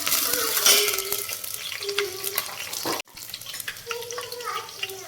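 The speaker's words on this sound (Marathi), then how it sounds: "इकडे वरणाला फोडणी द्यायचं काम चाललंय. मिरच्या टाकल्या, जिरं" Green chillies and cumin sizzle in hot oil while tempering dal, crackling under stirring and clinking utensils in a home kitchen, with a tap running, a brief cut midway, then the frying resumes.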